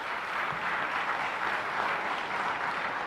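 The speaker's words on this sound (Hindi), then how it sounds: "एक बार AK चतुर्वेदी सर के लिए जोरदार तालियां हो जाए।" A room full of people breaks into loud, sustained applause in honour of mentor AK Chaturvedi at an SSB coaching session, a dense steady clapping wash lasting the whole stretch with no talk over it.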